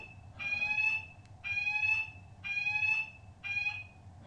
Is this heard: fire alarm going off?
yes